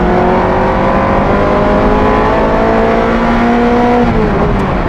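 A Ferrari F355 Challenge race car engine screams loudly at high revs on an open road. The steady, sustained drone climbs slowly in pitch with no talking.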